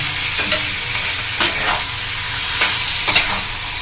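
Mashed potato seasoned with sugar is stir-fried in a hot pan for capsicum chops, giving a steady loud sizzle with a few sharp scrapes of the spatula against the pan.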